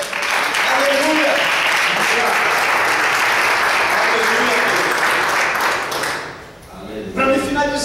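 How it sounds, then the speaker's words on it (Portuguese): A church congregation applauds in a steady, dense wash of clapping for several seconds that fades near the end. A voice follows briefly. "aplauda o Senhor, aleluia"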